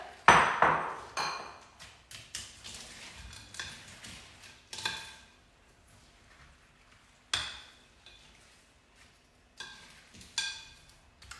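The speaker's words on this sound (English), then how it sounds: "So if you tip those in now, and give that a good stir." A chocolate Easter tiffin mixture with sweets is stirred in a bowl, giving a series of irregular clinks and taps of a spoon against the bowl, quiet and close with pauses between strokes.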